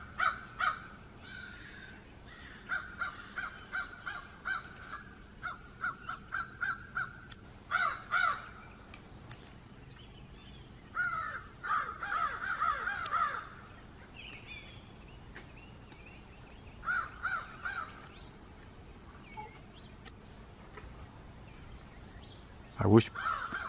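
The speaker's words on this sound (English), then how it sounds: "And then you got birds flying there." Crows caw repeatedly in bursts, fairly close, with pauses between call groups and a sharp knock near the end.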